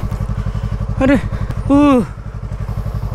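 A motorcycle chugs off-road with a steady, close, pulsing engine beat, while someone shouts briefly twice over it.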